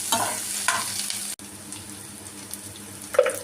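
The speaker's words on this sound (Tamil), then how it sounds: "இப்போ வெங்காயம் பொன்னிறமாக வதங்கிருச்சு" Onions frying golden in a pan for egg idiyappam, a soft steady sizzle with a few stirring scrapes near the start and end, close and moderately quiet with no talking.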